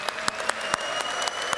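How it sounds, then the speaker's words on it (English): A theater audience at a conference roast show claps in a brief, sparse burst of scattered hands, individual claps distinct and fairly close. "give me applause if you're a Dutch person in the theater today"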